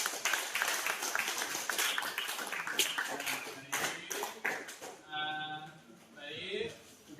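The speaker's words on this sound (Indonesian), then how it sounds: "Tepuk tangan untuk" Students in a high school math classroom clap together in a quick burst of applause that dies away after about five seconds, followed by a teacher's voice.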